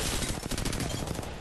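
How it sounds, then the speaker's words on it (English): Dense, crackling gunfire in Apex Legends, with sustained rapid shots from another team firing from a distance, filling the whole brief moment without a break. "Another team shooting you from afar."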